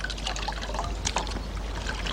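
Soap-like saponin plant material is washed in a bowl of water, making close, soft splashing and trickling sounds as it is worked and lathered by hand.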